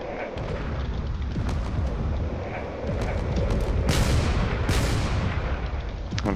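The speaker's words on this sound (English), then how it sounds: "this ship is still firing its cannons it still has on board" Cannons keep firing from a damaged warship in the Drone Wars space combat game, dense booming blasts and rumbling fire rolling almost continuously, with sharper bright bursts near the middle and no one talking.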